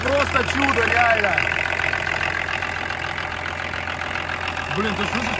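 An old BMW car engine, just started, idles with a steady low rumble and slight diesel-like knocking, while people talk excitedly nearby.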